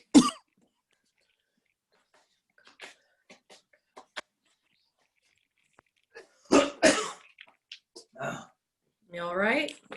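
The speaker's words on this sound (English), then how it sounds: "I just didn't want to cough into the microphone." A single sharp cough bursts out close to the microphone, followed by quiet stillness with faint clicks, then a few more loud coughs and throat clearing near the end.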